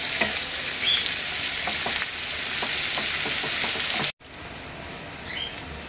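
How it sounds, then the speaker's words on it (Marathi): Onions frying in oil in a pan on a gas stove give a steady, close sizzle with faint crackles, cutting briefly to a quieter sizzle near the end; no talking. "आता 5 गॅसवरच कांदे असे शिजून घ्यायचे 2 मिनिटं"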